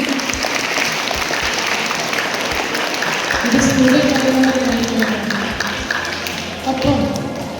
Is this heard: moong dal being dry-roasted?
no